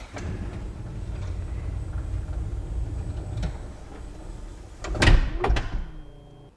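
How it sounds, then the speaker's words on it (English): A car's power sliding door on the right-hand side closes under a diagnostic system test, a steady motor hum running several seconds before a loud latching thunk and a brief rattle near the end. "Let's have a look at the right hand side, the power sliding door."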